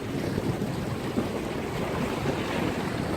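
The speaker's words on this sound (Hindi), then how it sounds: "हवा चल रही है" Steady wind blowing at Sharjah beach on the green-water shore, a continuous loud roar buffeting the microphone, with surf-like rushing and no voices.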